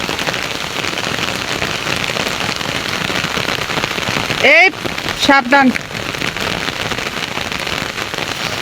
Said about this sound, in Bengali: দেখেন কেমন বৃষ্টি নেমে গেছে।